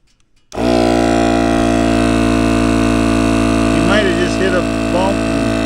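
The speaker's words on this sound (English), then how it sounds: "Set our air compressor up here." A portable air compressor starts abruptly and runs with a loud, steady droning hum while inflating a Polaris Range utility vehicle tire outdoors; a voice speaks briefly over it near the end.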